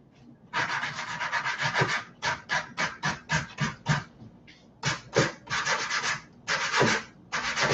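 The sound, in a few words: soft sanding block sanding painted wood furniture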